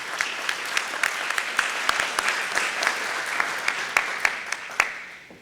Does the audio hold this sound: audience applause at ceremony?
yes